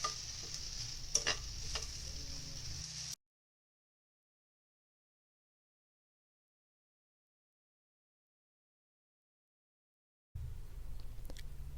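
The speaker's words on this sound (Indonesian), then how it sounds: "kemudian saya aduk-aduk lagi sampai tempe matang dan kecapnya merata." Tempe being stirred with soy sauce in a dry pan, a steady low sizzle with soft scraping for a few seconds at the start and again near the end, separated by a long silent gap.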